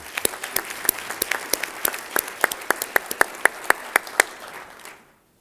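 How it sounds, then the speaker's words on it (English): A small audience at a county government's State of the County address claps steadily and briskly, individual claps standing out sharply, before the sound fades to silence near the end. "please give yourself a big round of applause"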